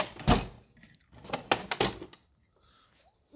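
A drawer in a tool box full of screwdrivers slides open with a few close clattering, rattling bursts, then settles into quiet.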